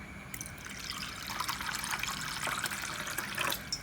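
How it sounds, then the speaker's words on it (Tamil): Water is poured over rinsed toor dal in a kitchen to soak it, a quiet, steady trickle and splash running for a few seconds with no speech. "அடுத்து இந்த பருப்பு ஊறதுக்கு தண்ணி சேர்த்துக்கலாம்."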